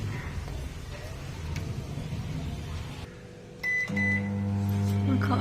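A microwave oven heats food with a low steady hum that drops off, then restarts louder with a higher tonal buzz and a short beep, heard close by.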